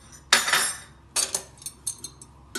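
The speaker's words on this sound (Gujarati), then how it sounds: "હવે આપણે ઢાંકી દઈશું." A lid is set down over a pan of Gujarati gunda (glueberry) pickle, starting with a sharp metallic clatter and followed by several lighter clinks and taps as it settles, close by with no talking.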